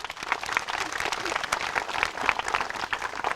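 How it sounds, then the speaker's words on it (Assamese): An audience of schoolchildren and guests at a gurukul event on Majuli bursts into sustained applause, dense clapping filling the room throughout. "সুন্দৰ সুন্দৰ এটা হাত চাপৰি"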